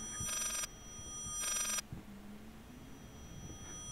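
A telephone rings twice in the Layers of Fear horror video game, two short, fairly quiet ring bursts over a low, dim ambient drone.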